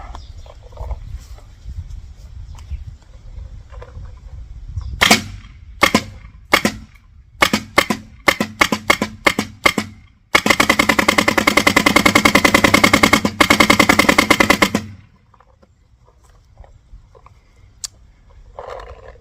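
A paintball gun fitted with an extremely loud aftermarket barrel fires outdoors, first in scattered sharp cracks, then a dense sustained burst of rapid shots lasting several seconds before stopping, over low background rumble.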